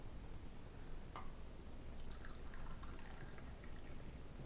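Coffee trickles from a brewer into a small glass, a soft, steady liquid pour heard close against a low background hum, with a brief brighter splash near the start.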